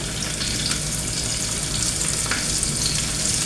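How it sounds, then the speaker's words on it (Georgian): Cabbage frying in a pan gives a dense, continuous crackling sizzle that stays loud and even throughout, with no voices. "ჩავაწყოთ და შევწვათ კომპოსტო"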